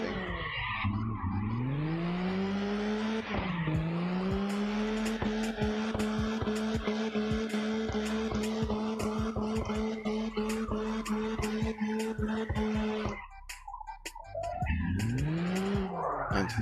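Car drifting in CarX Drift Online, with a long, loud, sustained tire squeal whose pitch bends as the engine revs, a brief break, then a fresh squealing slide rising at the end, no voices.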